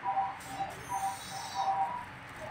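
A Terror Bird Recon creature in the RuneScape 3 video game gives soft, repeated cooing calls in short bursts over a steady hiss of game ambience, fairly faint and with no talk.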